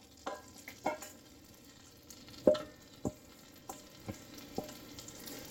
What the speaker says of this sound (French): j'ajoute 3 oignons hachés finement